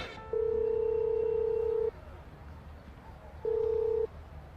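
Telephone call going unanswered: a long ringback tone, a pause, then a shorter second tone, steady and clear over a quiet indoor background.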